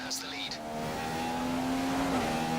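A Formula 1 race car engine at Spa in the F1 2015 video game, a sustained high whine holding steady then shifting pitch as the car is pushed hard, under a faint background hum.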